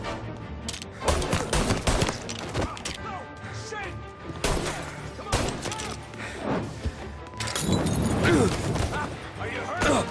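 Dense gunfire from Mafia: Definitive Edition, with repeated shots and bursts stacking up through a chaotic firefight, loud and close, while voices shout over the shooting.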